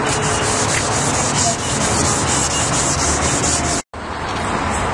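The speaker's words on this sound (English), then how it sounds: "I'm going to move back to sanding with the 800 grit sandpaper" Steady, close abrasive rubbing of 800 grit sandpaper on a car headlight lens during restoration, continuous scratchy friction with one brief pause near the end.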